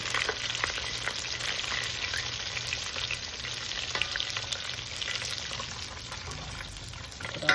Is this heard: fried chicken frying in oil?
yes